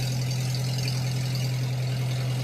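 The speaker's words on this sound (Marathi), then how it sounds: "आपली बोट निघाली आता" A boat engine drones steadily as a boat sets off toward Khanderi Fort, a constant low hum with a strong steady tone and no break, loud and close.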